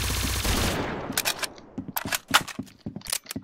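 Golden gun shots in the Roblox game Arsenal, a quick burst of sharp, close reports after an initial mechanical rattle, several snappy shots in fast succession.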